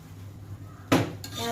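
A utensil clinks and scrapes in a dish as pangas fish mash is mixed with mustard oil, with one sharp clatter followed by continued mixing over a low background hum.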